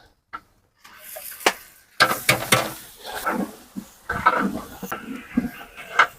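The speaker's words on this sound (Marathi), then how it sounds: "कांदा आता झालेला आहे भाजून आता आपण त्यामध्ये ऍड करू दीड किलो आद्रसन पेस्ट" Onions frying in a large pot for kandoori mutton at a hotel kitchen as one and a half kilos of ginger-garlic paste go in, with irregular scraping, clanking bursts and a steady sizzling hiss close by.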